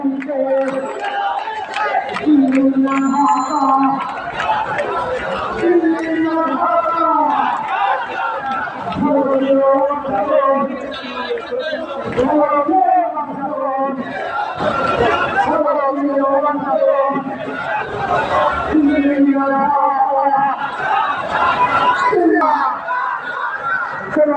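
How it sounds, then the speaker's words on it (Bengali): Crowd at an anti-treaty protest march setting off from the Press Club, chanting in loud rhythmic bursts with shouted call-and-response and background chatter, close and continuous throughout. "আজকের বিক্ষোভ মিছিল এখন শুরু হতে যাচ্ছে আজকের এই বিক্ষোভ মিছিলটি প্রেস বেশ ক্লাব থেকে শুরু হচ্ছে"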